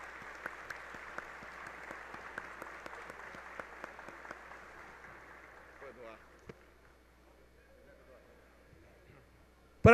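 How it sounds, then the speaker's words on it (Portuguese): A crowd of delegates at a federal pact march claps for a senator. Dense rhythmic applause carries for about six seconds, then fades into quieter hall noise with a sharp knock at the end. "Uma salva de palmas para o senador Renan Calheiros"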